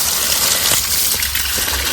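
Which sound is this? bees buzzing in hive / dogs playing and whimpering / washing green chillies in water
washing green chillies in water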